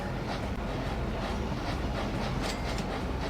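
Steady rumble of a mixed train rolling along in the video game Chris Sawyer's Locomotion, with faint clicking of wheels on rails, continuous and fairly loud, no voices.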